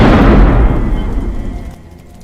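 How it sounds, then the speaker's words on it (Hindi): A loud burst of firecrackers exploding at a distant wedding celebration, the heavy broadband rumble decaying over about two seconds with no voices. "पटाखों की आवाज यहाँ तक आई है"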